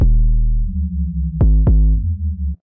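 Deep synth bass plays a short riff of sustained low notes with two sharp plucky accents near the end, then cuts off cleanly.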